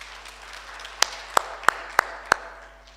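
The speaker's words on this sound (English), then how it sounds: "Can we give him a round of applause, please?" A handful of loud, isolated hand claps ring out about a third of a second apart in a quiet hall at a youth day celebration, a sparse round of applause rather than a full ovation.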